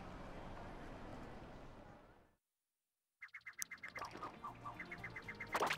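A bird's call in Super Mario Odyssey: a burst of short, repeated chirping or quacking notes after a brief silence, fairly close and moderately loud, following a stretch of dense noise.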